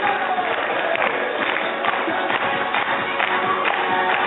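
Audience clapping at an open zoo animal show, a moderate crowd applauding steadily and fairly close, mixed with background voices.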